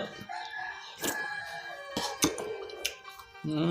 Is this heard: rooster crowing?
yes